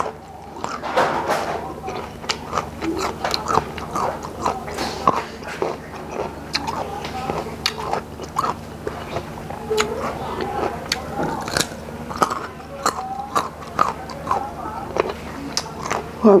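Someone bites and chews sour young olives and bilimbi fruit, giving repeated crunchy bites and wet chewing close up, with a voice talking over the eating throughout.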